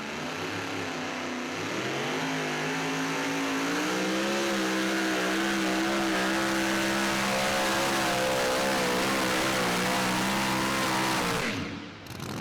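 A super modified 2WD pulling truck at a Franklin, Kentucky pull roars under heavy load, its engine note climbing and wavering in a loud sustained drone for about eleven seconds before cutting off abruptly.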